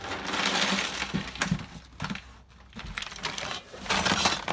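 Contents of a tote, including razor blades and other small metal items, are dumped out onto a surface in a loud, scattered clatter of clinks and rattles that briefly eases before a final burst.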